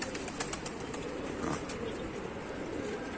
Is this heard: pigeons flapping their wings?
yes